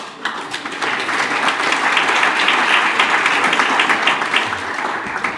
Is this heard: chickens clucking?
no